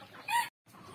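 Chickens on a backyard poultry farm cluck and crow briefly before feeding, a loud burst of fowl calls that cuts off into a short silence before quieter clucking resumes.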